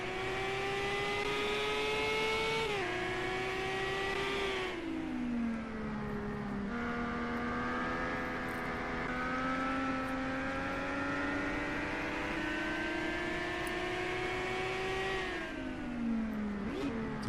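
An IndyCar race car laps the Adelaide street circuit in a racing video game, its engine whining loudly and continuously as it rises and falls through upshifts and downshifts, with no talk.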